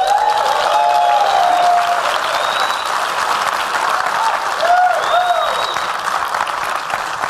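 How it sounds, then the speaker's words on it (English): A large audience at a centennial birthday event applauds loudly and steadily for several seconds, dense clapping with a few whistles and cheers mixed in. "I think we need to give him one more round of applause for that"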